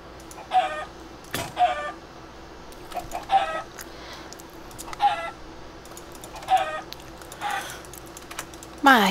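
Repeated chicken clucks from the Minecraft game as the bird is struck, several short squawks spaced through the stretch, some overlapping game clicks and a sharper squawk at the end.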